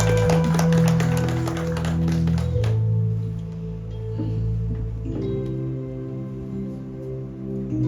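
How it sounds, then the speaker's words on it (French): A church congregation claps for the preacher over loud, sustained music: dense, rapid clapping for the first few seconds, then it falls away while the held musical tones carry on. "Applaudir chaudement la présence de ton serviteur."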